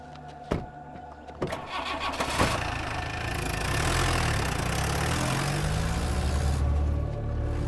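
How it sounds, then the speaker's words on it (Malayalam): A car engine cranks and starts after a few sharp knocks, then settles into a steady, close running rumble that holds to the end, with no talk over it. "ഓ ജോർജെ, വണ്ടി എടുക്കടാ."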